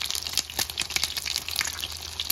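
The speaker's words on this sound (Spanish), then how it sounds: "Ahí está friendo los huevitos, Kevin" Chopped eggs frying together in a pan for Honduran baleadas, giving a continuous close sizzle with scattered crackles and pops and no talking.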